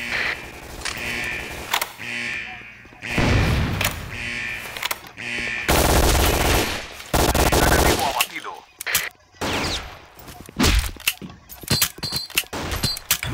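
Video game gunfire in a competitive team match: repeated bursts of automatic fire and single loud shots, close and sharp, with brief pauses between volleys and occasional voices talking over the action.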